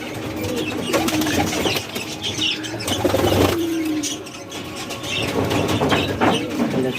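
Fancy pigeons in a loft, with wings flapping in bursts and soft cooing amid steady background noise.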